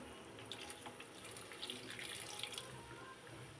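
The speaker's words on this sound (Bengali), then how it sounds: "এখন আমি একটু জল দিয়ে দিব এখানে।" Water running steadily into a pot of simmering taro and fish curry, a continuous close splashing pour with no talk.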